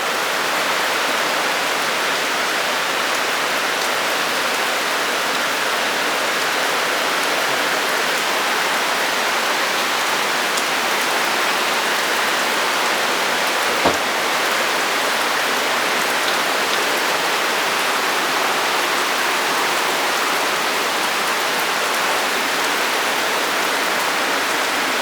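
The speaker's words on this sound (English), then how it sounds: "Now my view is like completely blurred out with all the rain that's falling on the porch, on the screen." Heavy rain pours onto a porch and screen during a thunderstorm in southeastern Pennsylvania, a dense, unbroken roar of drops lasting throughout with one faint sharp tap midway.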